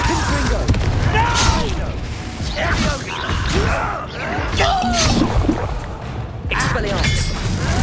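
Confringo fire spell blasts in the Hogwarts Legacy video game, repeated booming explosions and crackling bursts over a battle's clamor, with characters shouting spell names throughout.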